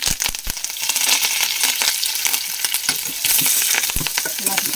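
Mustard seeds, cumin, crushed garlic and curry leaves sizzling loudly in hot oil, a dense close crackle with sharp spattering pops throughout.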